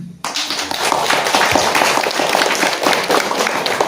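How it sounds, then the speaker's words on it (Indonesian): Audience applause breaks out suddenly and continues as dense, steady clapping from many hands, loud and close, at an evening community gathering with the Samin people in Indonesia. "Boleh tepuk tangan."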